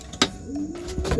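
A red racing pigeon, a lap-winning champion, gives a soft low coo that rises and holds steady for about half a second, close by, with brief rustling thumps around it.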